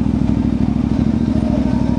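A CFMoto 450MT adventure motorcycle on the road, its steady mid-range engine drone and exhaust pulses running loud and close throughout with no voices.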